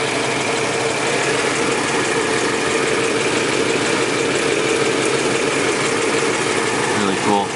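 A 1954 Dodge Royale convertible's 241 Hemi V8 with a single-barrel carburetor idles steadily and close by, a constant even rumble holding through the whole stretch.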